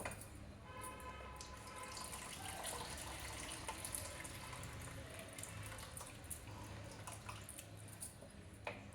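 Tamarind juice poured into a pot of simmering stew, a soft continuous trickle and splash of liquid at low level with faint background noise.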